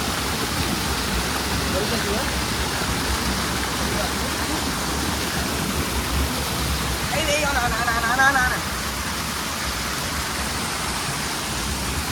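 A waterfall near Champeswar hill in Balasore, Odisha, pours with a dense, steady rushing roar that fills the whole scene, with a brief faint tonal sound rising over it midway.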